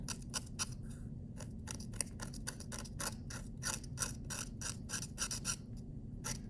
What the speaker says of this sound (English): you can scrape all this away, all the foam away off the paper